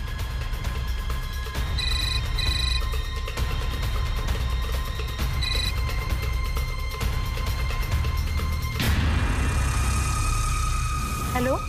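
A telephone rings in a tense indoor drama scene, short repeated bursts of a bright electronic ring over a steady low engine-like hum, with a louder wash of sound near the end.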